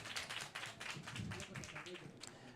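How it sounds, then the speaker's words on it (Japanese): Audience clapping to welcome the cook at a Tokyo food festival stage, a close, brisk patter of hands over a couple of seconds with some voices underneath. "それでは皆さん大きな拍手でお迎えください。"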